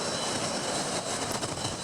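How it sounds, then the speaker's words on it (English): A rescue helicopter takes off from an aircraft carrier flight deck, a loud, continuous roaring engine wash with broad rushing noise and no voices. "The rescue helo is the first to take off."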